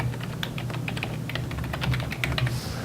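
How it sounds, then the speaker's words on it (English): A web address being typed on a computer keyboard, with a steady stream of close, crisp keystrokes over a faint low hum and no speech. "So if I just type in an address"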